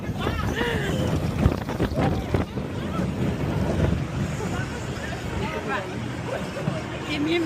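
Loud rushing wind and rumble fill a ride on the Icon roller coaster at Blackpool Pleasure Beach, continuous and close to the microphone with no clear break.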